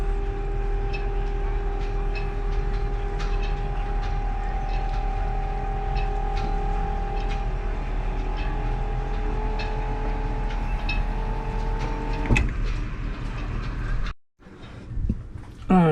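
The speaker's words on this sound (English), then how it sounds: "it's hydraulically operated, so by pressing this button here" A hydraulic engine hatch lifts on a Nord West 370 Coupe motor boat. A steady, close motor whine with humming tones runs for about twelve seconds, then cuts off, followed by a clunk and a short rustle.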